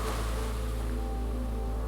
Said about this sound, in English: There are big waves rolling loudly onto the beach in front of you.